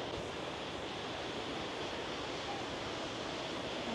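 Waterfall in Dak Lak gives a steady, dense roar of falling water, loud and unbroken throughout, with no voices.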